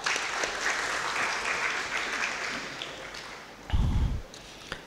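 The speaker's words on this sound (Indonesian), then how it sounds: "Sekali lagi tepuk tangan buat mahasiswa." Applause for law students at a provincial legislative plenary session in Gorontalo, a steady wash of many hands clapping from a large hall, with a low thump near the end.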